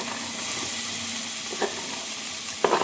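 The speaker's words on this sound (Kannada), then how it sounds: "ವೆಜ್ಜಿಸ್ ಎಲ್ಲ ಬಟರೊಂದಿಗೆ ಚೆನ್ನಾಗಿ ಫ್ರೈ ಆಗಬೇಕು" Chopped vegetables fry and sizzle in butter in a pan while Maggi masala noodles are being cooked, a steady close hiss with a couple of brief stirring scrapes near the end.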